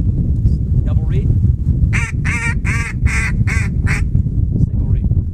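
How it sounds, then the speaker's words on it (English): A ReDDucs Hunting Co. double reed duck call blown in a rapid run of five raspy quacks, loud and close over a heavy rumbling background with some voice. "I'm going to show you these again. Double reed."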